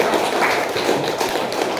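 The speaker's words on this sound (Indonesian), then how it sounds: "tepuk tangan dulu teman-teman" A classroom audience at Universitas Negeri Makassar claps, giving a dense, steady patter of many hands close by that continues throughout.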